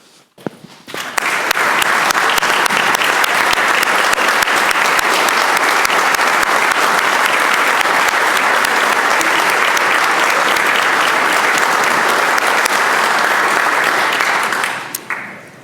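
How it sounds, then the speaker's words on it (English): The Virginia House of Delegates chamber fills with sustained, loud applause from many people, steady for about fourteen seconds before fading out abruptly. "they deserve our round of tremendous applause and support"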